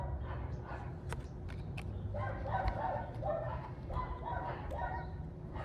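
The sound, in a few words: dogs barking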